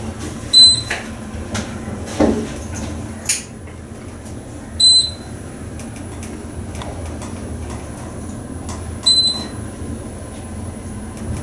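An Otis GEN2 traction elevator service car in a Pittsburgh building, with a few short soft clunks and thuds of door and car hardware over a low mechanical hum, mostly quiet between the knocks.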